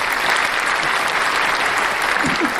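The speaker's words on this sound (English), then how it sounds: "Round of applause for Thirsty Daddy." A round of applause from a small audience, a dense, steady wash of clapping throughout the short stretch with no voices standing out.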